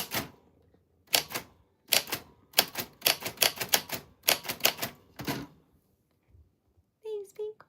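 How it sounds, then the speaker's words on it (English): Manual typewriter typing out a letter, a close series of crisp key strikes in bursts with short pauses, then a brief voice at the end. "because a typewriter is not as exact as a computer"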